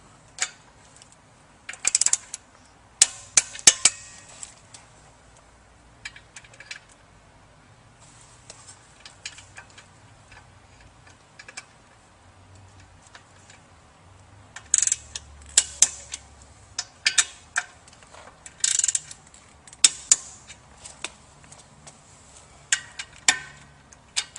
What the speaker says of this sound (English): With the motor set all the way down on its seat, we'll go ahead and torque down the motor bolts.